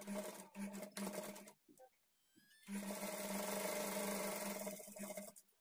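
A sewing machine stitches a blouse waistband with a half-inch margin, running steadily in two bursts separated by a short pause with light handling noises, close and moderately loud.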